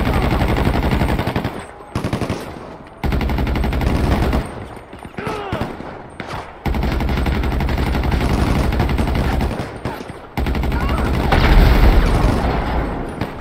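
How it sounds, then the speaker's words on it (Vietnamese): Sustained automatic gunfire roars in long bursts in GTA 5, a loud continuous rattle broken by brief pauses, with booming impacts and a voice talking in places. "Trời, bắn từ xa luôn."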